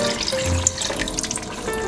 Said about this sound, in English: And whatever's left over in the can, just add a little water to it to kind of wash it down to the bottom.